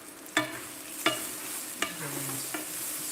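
Bacon with cumin and garlic powder is stirred in a sizzling pan: four distinct scraping strokes of the utensil cut through a quiet, steady fry.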